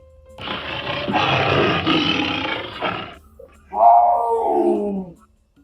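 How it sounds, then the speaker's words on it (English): A tiger gives a close, loud, breathy rasping exhalation lasting a few seconds, followed by a shorter, lower moaning vocal call, with no other sounds around it. "T for tiger. I chuff, and this is what I sound like."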